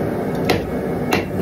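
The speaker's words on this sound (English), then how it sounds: "So you go to a corner and you just hammer down on it." Hammer blows on knife guard material set on an anvil at a forge, two sharp strikes about half a second apart over a steady loud background roar.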